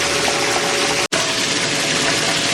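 An Intex sand filter pump backwashes dirty water from an above-ground Coleman pool, giving a steady, loud rush of gushing water with motor hum underneath, broken by one brief dropout partway through, with no talking.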